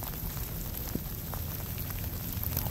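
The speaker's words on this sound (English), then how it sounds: "it's raining pretty good. I'm soaked." Steady rain patters through the woods during a late-season muzzleloader deer hunt in Iowa, a dense, even hiss of drops landing close around with a few brighter individual hits.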